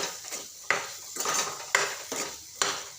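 Eggplant stir-frying with masala in a pan, a spoon scraping and clanking against the metal in steady repeated strokes over a soft sizzle, close and fairly loud.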